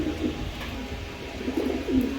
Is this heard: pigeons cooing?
yes